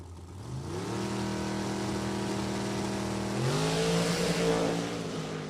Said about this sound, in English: Runs a 638 at 211 miles an hour, driving that race car all the way down.